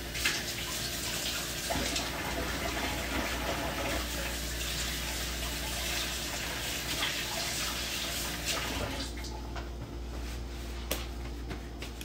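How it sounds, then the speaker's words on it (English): Hands being washed under a running tap, a steady close rush of flowing water with occasional splashes and small knocks, continuous throughout and fading slightly near the end, with no talking. "Wash your hands."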